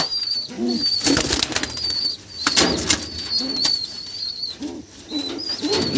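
Repeated bursts of wing flapping close by as a high-flying female pigeon is held, with soft cooing and thin bird chirps throughout.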